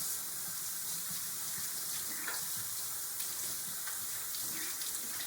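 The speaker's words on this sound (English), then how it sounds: "stick them back under the water and wash all the soap off." Soapy hands get rinsed under a running tap, a steady close hiss of flowing water with small splashy shifts as the hands move through the stream, and no talk.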